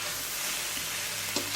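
Pork liver stir-fried with ginger sizzles steadily in a hot pan, with a brief scrape of the spatula turning the pieces near the end.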